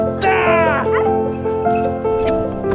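Hunting dogs on a woodcock hunt in Normandy give loud, close yelping barks and high whining cries that overlap in quick succession.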